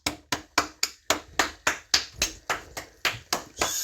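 Sharp, close hand claps in a steady, evenly spaced rhythm, about a dozen single claps in a row, the last ones blurring into a rougher burst, with no talk over them.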